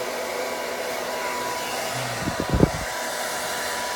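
A hair dryer blows steadily on keratin-treated hair in a salon, a loud, close, continuous whoosh with a few brief handling thumps near the end.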